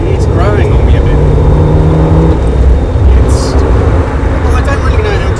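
A Porsche 968 four-cylinder engine drives along with a steady, throaty drone and road noise, while voices talk over the sound of the car throughout.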